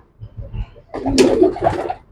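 Pigeon for sale cooing from about one second in, a soft warbling call close by, preceded by quiet low rustling.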